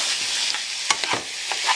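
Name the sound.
butter and garlic frying in a pan, stir-fry style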